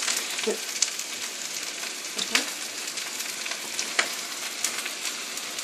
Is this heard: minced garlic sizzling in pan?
yes